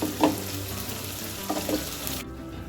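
Banana flower and potato pieces fry in a pan with a paste of ginger, cumin and chilli, a steady soft sizzle with a few light clinks of stirring, fairly quiet and close, no voices.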